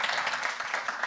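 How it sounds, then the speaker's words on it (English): An audience at a talk on planetary sensing gives a brief round of applause, a fairly quiet, even patter of many hands clapping together for about a second. "Let's have a big round of applause for Christina and Connor"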